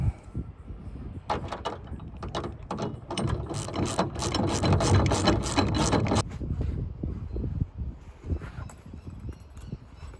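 A ratchet wrench tightens bolts on a roof awning, clicking in a fast, steady run for several seconds, then giving a few slower strokes, close and loud with outdoor background noise.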